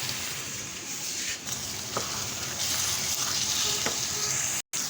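Yogurt goes into a pan of frying aloo methi (potato and fenugreek), bringing a steady close sizzle with spoon stirring and scraping throughout, no talk.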